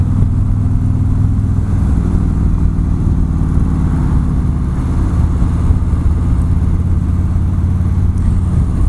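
A Harley-Davidson motorcycle engine while riding: a loud, continuous, low throbbing drone with a shift in pitch about halfway through, as if changing gear or throttle.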